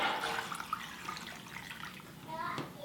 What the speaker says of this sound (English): And then add the water.